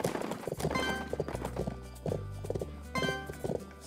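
Horse hooves clip-clop in the Bibi & Tina: Auf dem Martinshof video game, a quick, steady rhythm of loud, close hoofbeats with no talk over it.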